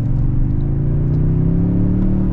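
A modified 2022 Toyota Tundra TRD Off-Road on 35-inch tires accelerates, its engine giving a loud, steady rumbling drone that climbs gradually in pitch over a couple of seconds, close and alone with no talk.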